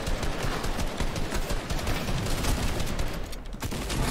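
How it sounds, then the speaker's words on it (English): Continuous loud gunfire in a competitive shooter scrim, dense automatic rattling with overlapping shots and no clear pause across the whole span. "We're getting shot at"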